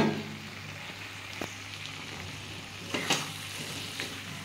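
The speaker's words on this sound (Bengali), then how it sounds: "সব শুদ্ধ একটু কষিয়ে নেব" Pumpkin and mixed vegetables fry in a pan with a quiet, steady sizzle, broken by a few soft scrapes and clinks as they are stirred.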